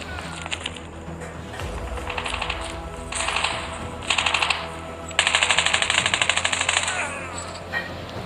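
AK-47 fire in the mobile shooter Call of Duty Mobile comes in rapid automatic bursts: a few short volleys, then a longer rattling string, loud over the game's background sound.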